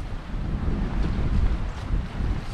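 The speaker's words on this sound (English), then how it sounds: "Super, super windy." Strong, steady wind roaring and buffeting the microphone outdoors on Macintosh Lake in Algonquin Park, with a low rumble of choppy, wavy water underneath; no voices.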